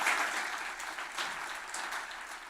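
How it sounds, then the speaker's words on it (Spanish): A church congregation at a Sunday service breaks into steady applause, a soft, even wash of many hands clapping with no voices on top. "démosle un fuerte aplauso al Espíritu Santo"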